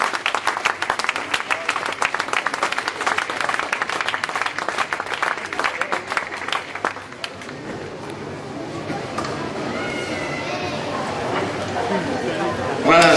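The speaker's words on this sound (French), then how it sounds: "comme j'aime bien qu'on applaudisse toutes ces stars là" A crowd at a bowling championship podium applauds champions with dense, sustained clapping for about seven seconds, then the clapping thins into murmuring chatter while someone talks over a public address.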